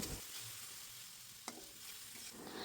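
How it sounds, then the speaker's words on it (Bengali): Spices with chili and turmeric stirred in a pan as a little water goes in, a soft steady sizzle with one sharp clink of the spoon midway, quiet and close with no talking. "এখন আমি একটু নেড়েচেড়ে সামান্য পরিমাণে জল দিয়ে দিচ্ছি"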